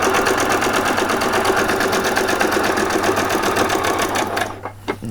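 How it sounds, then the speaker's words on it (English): Sewing machine running steadily as it stitches two long gathering rows across the bottom of a Christmas party dress, a loud, even mechanical whir that stops near the end, leaving a few faint handling clicks. "we're going to do 2 rows of stitches across the bottom of here"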